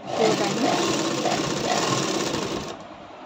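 A sewing machine runs in one steady, fast stitching burst while sewing a katori blouse at the shoulder seam, then stops abruptly near the end.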